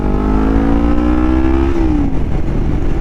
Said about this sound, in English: then you're gonna need an exhaust, and I would highly recommend the Delkevics that I have on.